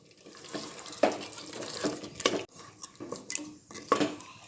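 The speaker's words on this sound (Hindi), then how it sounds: "मैंने गोश्त में पानी डाला है" Water splashes in short pours into a pot of meat, with metal clinks and scrapes of a utensil against cookware between them, close by.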